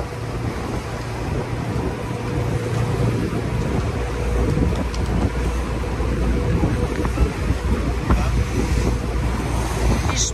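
Steady wind blusters into the microphone on the Amalfi Coast near Praiano, with a continuous low roar, accompanied by a faint wash of water and engine-like rumble.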